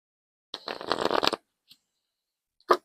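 An oracle card deck is riffled and shuffled for about a second, a quick soft papery flutter, followed by two small isolated card taps after a pause, close and quiet.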